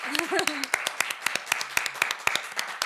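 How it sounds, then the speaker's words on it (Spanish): A small audience at a live podcast recording claps in distinct, sharp beats, with a brief voice heard at the start. "Un aplauso a Almudena Lovera."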